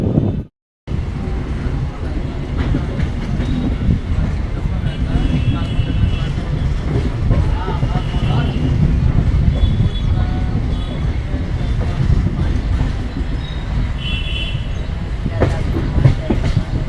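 A Katni–Chirmiri MEMU local train rolls past on a curve, a steady close rumble with rail clatter throughout, broken only by a brief gap near the start.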